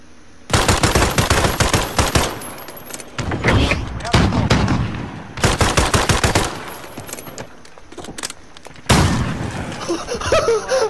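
Gunfire in Call of Duty Modern Warfare, a series of loud close automatic bursts separated by short gaps, rattling in several long strings across the clip with occasional heavier booms, players talking in between.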